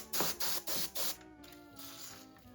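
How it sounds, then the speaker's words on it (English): WD-40 sprayed onto the seized moving parts of a 1984 Babylock 418 serger: four short, sharp hissing bursts in quick succession, then a quieter, lingering mechanical hiss. "I'm just gonna spray every possible moving part."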